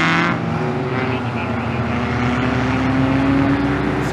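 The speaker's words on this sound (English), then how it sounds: "Cars are coming around now for the first pace lap." Race cars rolling around on the opening pace lap of an endurance race, a continuous loud engine drone with steady low tones, no speech over it.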